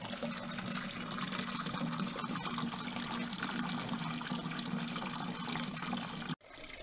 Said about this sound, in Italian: andiamo ad aprire la valvola dell'acqua e facciamo riempire la vasca